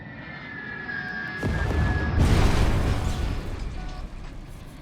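An A-10 Warthog air strike in the video game War Tycoon: a high whine sweeps in and cuts off, then a loud, broad explosive roar swells and rumbles for several seconds before easing off.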